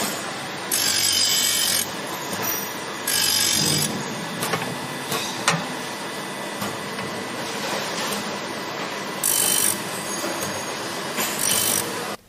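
A CNC gear grinding machine sharpens the alloy cutter teeth of a saw blade, a steady rasping, grinding hum broken by repeated louder bursts of hissing, scraping contact every couple of seconds, with no talking.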